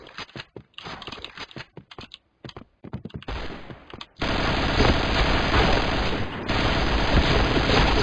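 Rapid bursts of gunfire, including a Python revolver, crackle in uneven clusters in the video game Point Blank, then give way to a dense, continuous roar of shooting that fills the rest of the clip.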